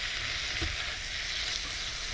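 Meat and vegetables simmer in a wok aboard a boat, producing a continuous even sizzle at close range with a soft knock partway through and no voices.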